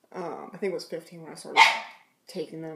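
A dog barks a few times close by, under and between a person's speech in an indoor setting.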